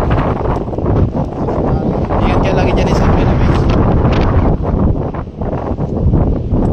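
Strong wind buffeting the microphone at night by the water, a loud continuous roaring rumble that rises and dips, heard under someone talking.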